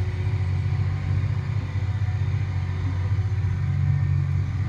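A John Deere 8235R tractor engine runs steadily in the field, a deep continuous drone with strong low rumble, close and loud throughout, its speed easing down as the disc implement is lifted.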